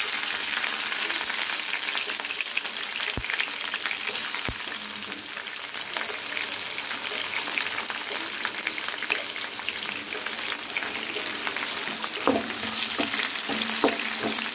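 Onion and green chili fry in oil with mustard seeds, chana dal and urad dal for a raw banana fry, a dense, steady crackling sizzle with occasional pops and a few scraping stirs near the end.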